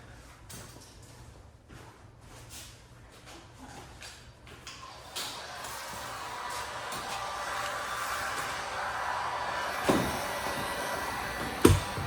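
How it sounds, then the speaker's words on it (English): A heat gun warms chrome window trim on a Ford Taurus, a steady airy blowing hiss that grows louder midway, with a couple of light knocks near the end and no talk. "That's where the heat gun will come into play."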